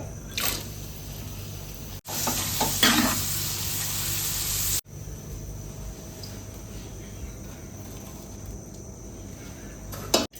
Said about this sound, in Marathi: खोबरं तळून घेऊया मनुका तळून घेऊया